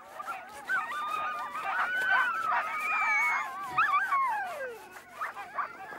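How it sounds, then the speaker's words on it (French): Sled dogs whimper and whine in a cold Arctic setting while whale blubber is cut, a mix of high wavering whines and yelps, fairly faint, with rising and falling howl-like tones. "Sous l'œil intéressé de ses chiens, Atata est en train de découper de la graisse de baleine dans l'unakrite"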